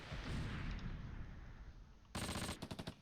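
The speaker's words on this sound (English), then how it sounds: "Their mortars, not great." Mortar and gunfire in the Close Combat Last Stand Arnhem war game, a rumbling low battlefield wash followed by a sharp burst of loud, rapid impacts near the end.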